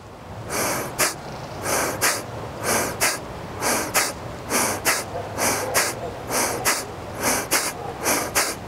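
Forceful abdominal exhalations in a cleansing breathing exercise for military personnel, sharp rhythmic bursts of air repeating steadily about every second, close and loud, with passive inhales between them.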